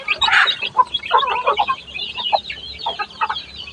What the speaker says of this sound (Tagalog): ganyan yung mga manok ko